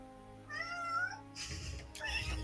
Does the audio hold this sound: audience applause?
no